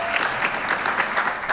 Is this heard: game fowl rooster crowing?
no